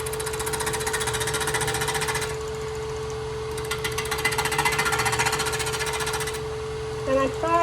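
A multi-axis spindle lathe cuts a symmetrical cove in wood, a loud rough chattering drone with a bright rasping texture that drops back briefly midway before surging again.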